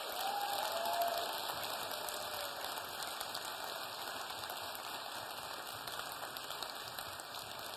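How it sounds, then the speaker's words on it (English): A crowd applauds and cheers for a student eco-car team at a design presentation, a steady, hissing roar of clapping that holds evenly throughout without breaks. "please join me in giving them a huge, well-deserved applause"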